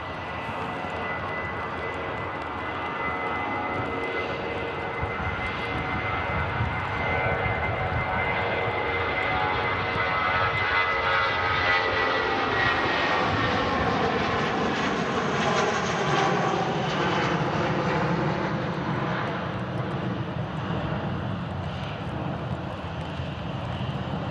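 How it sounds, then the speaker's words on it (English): A British Airways shuttle jet takes off at Manchester Airport, its engine roar building into a loud, steady rumble that holds throughout, with a rising whine sweeping upward partway through. "British Airways shuttle service next to take off"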